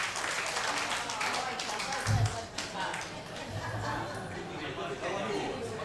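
Crowd applause welcomes a guest at a 33rd-anniversary celebration: dense, steady clapping fills the room for the whole stretch, with voices talking underneath.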